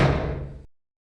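A door swings shut with a single solid thud, a short low-heavy impact whose resonance rings briefly and then cuts off into silence, close and isolated.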